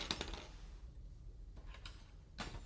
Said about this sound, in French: Je prends à nouveau une paire de ciseaux